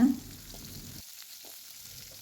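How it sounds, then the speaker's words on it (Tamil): Small shallot-type onions frying in a little oil in a kadai, a soft, close sizzle that drops out briefly after a second, then resumes faintly. "அதில் கொஞ்சமாக எண்ணெய் விட்டு ஒரு 15-20 சின்ன வெங்காயம் சேர்த்துக்கோங்க"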